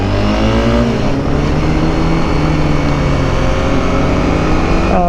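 A Honda CBR 300R motorcycle is ridden on a road, its engine loud and steady, with pitch sweeps hinting at revving and shifts near the start and again at the end.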